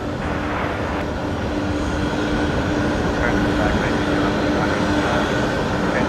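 Air New Zealand airliner on the move at Brisbane Airport at night, a steady distant jet roar with a faint tonal whine, heard continuously at moderate level.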